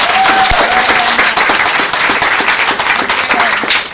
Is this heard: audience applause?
yes